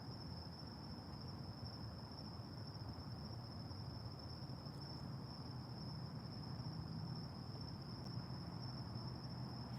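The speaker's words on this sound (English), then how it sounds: "you can focus on the sounds of the crickets" Crickets chirp in a continuous high, steady trill, faint and even, over a soft background hiss with no other sounds.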